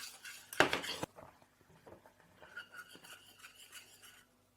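A spoon scrapes and clinks against a pot as porridge is stirred on a stove. One loud burst of scraping is followed by quieter, irregular stirring strokes.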